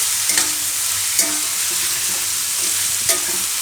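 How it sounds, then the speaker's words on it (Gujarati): Spices stirring and frying in hot oil in a pan for radish dhokli make a steady, close sizzle, with a few soft scrapes of the spoon breaking through. "બધો મસાલો થોડીક વાર તેલમાં આ રીતે ફેરવી લેવાનો."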